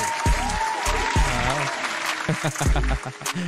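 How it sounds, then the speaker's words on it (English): A round of applause from a small group during a live online music show, with a clapping burst over background music and a voice talking across it. "give me that round of applause, man"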